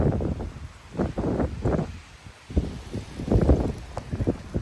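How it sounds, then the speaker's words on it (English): Gusty wind of about 40 mph buffets the microphone during a severe weather outbreak in Frisco, Texas, arriving in uneven rushes that swell and fade over a few seconds, with rustling and patter mixed in. "The wind just shifted directions."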